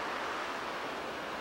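Ocean waves wash onto a beach in a cove sheltered by a reef about 100 meters offshore, producing a steady, dense rush of surf that fills the moment without any voices.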